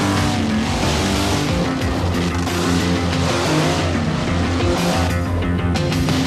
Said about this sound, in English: it's time for the trucks to pair off and drag race